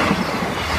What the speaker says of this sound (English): This is for our 1600 2-0 18 East Midlands train service from Skegness to Nottingham.